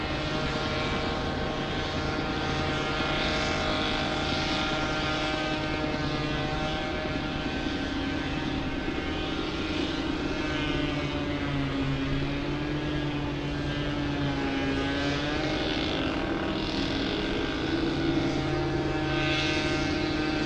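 Jet airliner engine noise at Los Angeles International Airport, a steady loud roar with a shifting whine as the plane moves on the airfield, continuous throughout with no talking.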